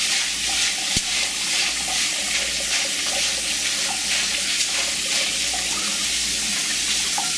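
Tap water running steadily into a sink as corn is rinsed for pozole, a continuous close splashing hiss with light clatter.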